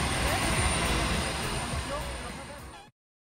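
Steady roaring drone of airplane engines filling the cabin on a flight from Istanbul to Kayseri, loud and continuous, then cutting off abruptly near the end.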